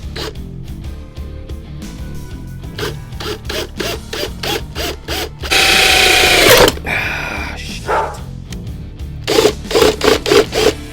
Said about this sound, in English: drilling a hole in the front of the ukulele